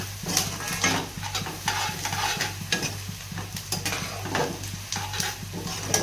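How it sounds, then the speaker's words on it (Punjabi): Onions fry in a pan while being stirred, giving steady sizzling with repeated scraping strokes of a spoon against the pan, close and clear, with a low hum underneath and no talking. "ਆਪਣੇ ਪਿਆਜ਼ ਭੁੰਨੇਗੇ ਗਏ ਕੱਚੇ ਪੱਕੇ"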